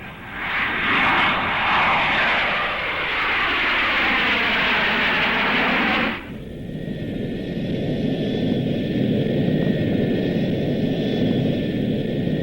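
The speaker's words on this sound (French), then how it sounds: "Je reconnais ce moteur-là. Oui, c'est l'avion dans lequel je me trouvais." An airplane engine drones loudly and steadily, a rushing roar that sweeps and shifts, then drops abruptly to a lower, steady cabin-like hum that continues to the end.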